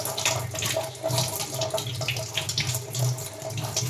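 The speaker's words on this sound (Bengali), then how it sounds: "তো ধুয়ে নিই ভালো করে, পরিষ্কার করে ধুয়ে তারপরে মেলে দেবো।" Clothes are washed by hand under a running tap, with a steady close gush of water broken by splashing and sloshing as the fabric is rinsed.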